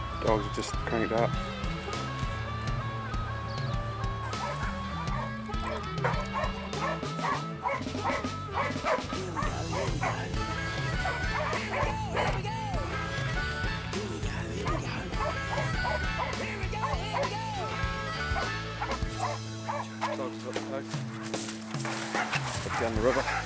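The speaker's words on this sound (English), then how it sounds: "Dogs are just cranked up." Wild boar hunting dogs bark, yip and whimper excitedly around a caught boar by a creek, a near, continuous frenzy of overlapping calls with people talking amid the commotion.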